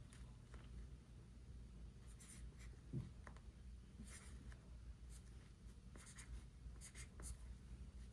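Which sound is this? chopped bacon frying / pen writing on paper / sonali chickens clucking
pen writing on paper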